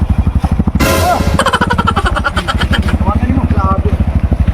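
A motorcycle carrying a heavy load of wood labors with a loud, close engine putting out rapid, regular pulses, straining throughout while people shout and talk over it.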